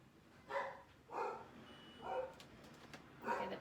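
Dogs barking at a distance, four faint barks spaced about a second apart over quiet background.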